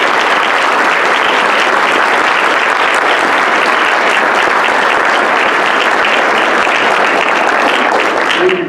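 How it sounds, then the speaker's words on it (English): Sustained, loud applause from a banquet audience honoring the people who served at a county STAR banquet, dense and steady clapping throughout with light crowd murmur underneath, fading slightly at the very end. "Give them a big round of applause."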